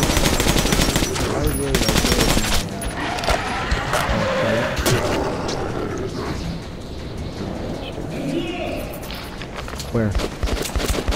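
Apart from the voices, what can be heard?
gunfire during a fight in the video game Metro 2033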